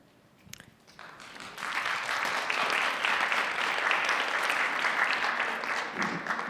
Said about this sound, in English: claps for Kevin